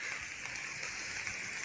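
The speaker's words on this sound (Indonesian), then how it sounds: "Iya, ada hujan" Steady rain falls outside a tent pitched in a house yard at night, a continuous soft hiss of drops with no breaks, fairly quiet and even.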